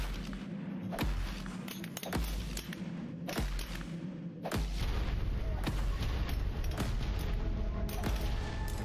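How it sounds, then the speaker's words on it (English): Hand grenades blast in the cave fight of ARK: Survival Evolved, a series of sharp thudding booms in a rough rhythm, followed by a denser stretch of continuous rumbling explosions. "I'm gonna start chunking grenades like nobody's business."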